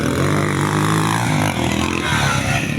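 A motorcycle engine revs hard and close, a loud sustained droning roar with strong harmonic tones that dips briefly midway before climbing again, with no voices over it.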